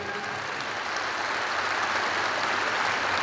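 A large crowd applauds an award recipient at the State Police anniversary celebration in Arēna Rīga, producing a steady, loud wash of clapping that fills the whole stretch without letup.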